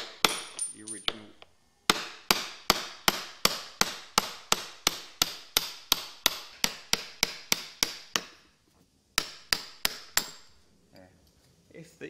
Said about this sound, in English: using a suitable drift, just drive out the original